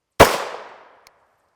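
A single sharp gunshot from a Ruger LC carbine with a 16-inch barrel firing 5.7x28mm SS201 40-grain FMJ rounds, loud and close with a short decaying tail, followed by a faint small click.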